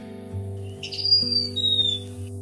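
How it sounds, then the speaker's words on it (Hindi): Chongroli bird calling in the Lahaul valley in winter, a thin high drawn-out descending whistle repeated twice over a low steady drone of background music. "यह है चोंगरोली, वो एकमात्र पक्षी जो लाहुल की निर्दयी सर्दियों में भी अपनी धरती नहीं छोड़ता"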